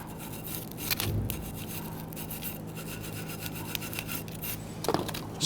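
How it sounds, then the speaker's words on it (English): A wire brush scrubs rust off a rear brake part on a 2010-2019 Ford Taurus, repeated quick rasping strokes close up, steady and gritty with a few sharper scrapes. "start cleaning with the wire brush"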